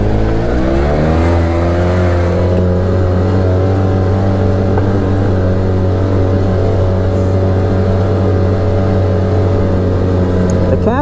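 Arctic Cat Wildcat Trail XT side-by-side engine running loud and close on a trail, a steady low drone that climbs in pitch as it revs near the start and holds high, with a brief rise again at the end.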